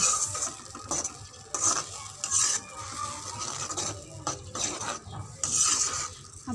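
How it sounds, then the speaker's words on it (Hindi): Tomato, chilli and garlic masala sizzles with onions in a pan, stirred so that a spoon scrapes and clinks against the pot in an uneven rhythm over a steady frying hiss. "अब हम इसको अच्छी तरह फ्राई करेंगे।"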